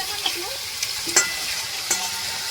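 Leafy greens stirred in a hot wok, with a steady sizzle and light scraping strokes of a spatula in a few short, separate movements, heard close and alone.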